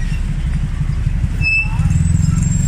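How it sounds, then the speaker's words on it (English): Steady Bangkok street traffic with a continuous low rumble of cars and motorbikes passing close by, dense and loud, with faint higher engine whines drifting through. "So there's your typical Bangkok traffic,"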